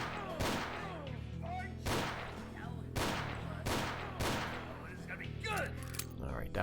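Revolver fired in the video game Dead Man Walking, with five loud, sharp shots spaced about a second apart, each trailing a brief echo over a low, steady background drone.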